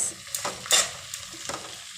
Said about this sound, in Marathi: आपण हा पालक इथे थोडासा असा तेलामध्ये परतून घेत आहे।